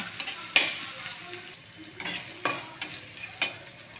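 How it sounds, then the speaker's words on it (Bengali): Onion, ginger and a few garlic cloves frying in oil left from frying rohu fish, a steady close hiss with sharp spatula taps and crackles every second or so. "পেঁয়াজ আদা আর কয়েকটা রসুন আমি ভালো করে ভেজে তুলে নেব মশলা করার জন্য"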